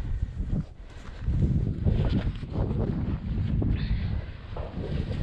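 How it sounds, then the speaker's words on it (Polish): Gusts of wind rush and buffet against the microphone, swelling and easing in uneven waves with a rough, rumbling texture. "już wiatr zaczął ciągnąć"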